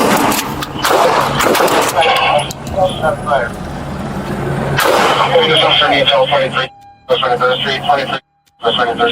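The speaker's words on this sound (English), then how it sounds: "Shot fired." Loud gunshots ring out during a police standoff with SWAT officers at a house, several sharp bursts echoing amid shouting voices and radio chatter, with short silent gaps between.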